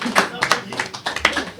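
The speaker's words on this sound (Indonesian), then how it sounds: "Oke, tepuk tangan dulu" About a dozen sharp, close hand claps in quick succession, slightly irregular in rhythm, with a voice talking over them.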